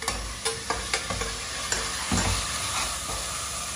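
Ginger garlic paste sautéing in hot oil for a wedding-style biryani rice, a steady sizzle with a series of sharp spoon scrapes and stirring knocks against the pan, close and alone.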